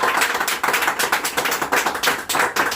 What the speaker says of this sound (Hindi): बार इनके लिए जोरदार ताली बजा दीजिए।